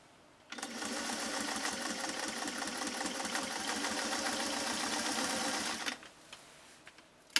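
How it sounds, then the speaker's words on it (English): A Singer 404 sewing machine stitches through two layers of acrylic awning fabric, a steady close mechanical whirring hum that starts abruptly, runs evenly for about five seconds, then stops, followed by a few faint clicks. "Can you hear that machine working?"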